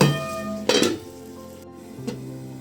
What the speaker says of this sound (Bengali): লবণটা দিয়ে আমি আরও কিছুক্ষণ মাংসটা এখানে ভেজে নেব